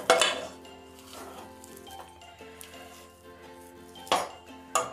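A lid is lifted off a pot of ragi sangati, the finger-millet dough cooked on a stove, giving a loud metallic clank at the start and two more sharp clinks near the end, with soft background music throughout.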